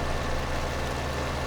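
Tractor engine in Farming Simulator 2017 labouring as it climbs a hill with a heavy forestry load, a steady low droning rumble held at an even level throughout with no pauses.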